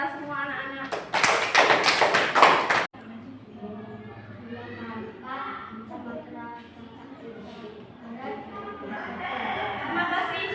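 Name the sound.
children applauding in class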